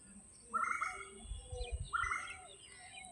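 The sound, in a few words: Asian koel calling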